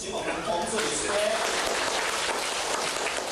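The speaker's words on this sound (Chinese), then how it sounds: "以热烈掌声，请我们洪水出现" Audience applause welcoming a speaker at a Minnan-language Zhongyong classics class gathering, a dense, steady wash of clapping filling the room for a few seconds, with faint voices mixed in.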